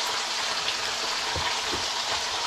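Bacon sizzles steadily in a pan as a final batch cooks, a continuous bright crackling hiss with a few soft low thumps from tongs moving strips around.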